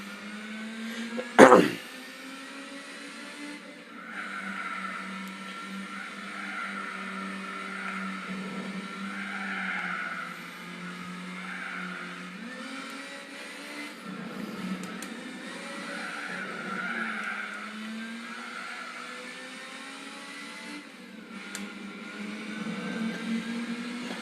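A racing car in Gran Turismo on a PlayStation 2 drones along with a steady engine tone that rises and falls through gear changes, with a sharp click at the start and occasional tire squeals.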